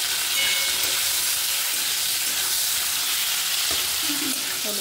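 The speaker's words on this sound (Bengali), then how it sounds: "তো হলুদ আর একটু লবণ দিয়ে এটাকে ভেজে নেবো।" Fish seasoned with turmeric and salt fries in hot oil, giving a steady, close sizzle with crackling that continues throughout without any talking.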